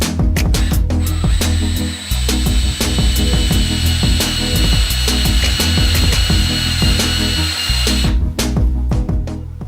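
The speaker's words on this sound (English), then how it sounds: "I'm drilling in at roughly 2 degrees" A power drill bores a slanted dog hole into a wooden workbench leg for nearly ten seconds, loud and close, its motor whine holding constant before cutting off near the end.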